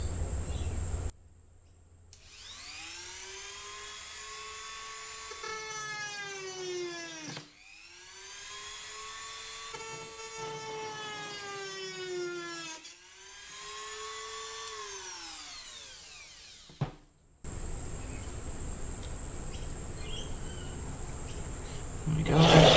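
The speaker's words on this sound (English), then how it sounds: "grabbing the Dremel." A Dremel rotary tool runs up to speed in three separate bursts, pitch rising and falling with each, held close and loud while working in an Evo X engine bay, with steady mechanical hiss between runs.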